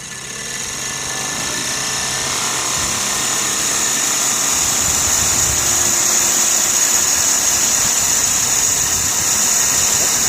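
A Sirius steam engine generator running on steam from a boiler cranked up to about 80 psi, a steady close mechanical whir with a bright high whine that slowly builds in loudness, no talking.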